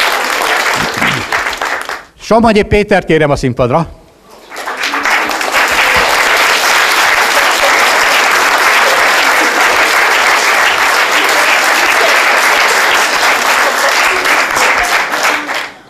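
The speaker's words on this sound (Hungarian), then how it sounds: "Egy tapsot kérünk Marikának." An audience at a March 15 commemoration ceremony applauds in loud sustained rounds, first briefly, then after a spoken announcement a long steady wave of clapping that fills the hall.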